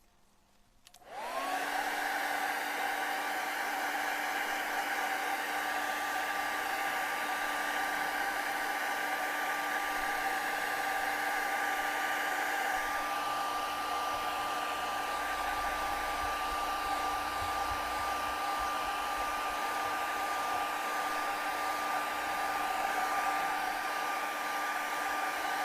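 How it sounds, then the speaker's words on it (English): A hair dryer switches on and blows steadily over acrylic paint, with a loud, constant whine and rushing air, running unchanged for over twenty seconds. "so let's hit it with the hairdryer"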